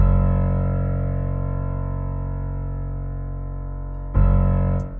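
A low, sustained piano note buzzes with heavy distortion from a Decapitator plugin on its beefy preset, slowly fading before a second gritty note strikes loudly near the end.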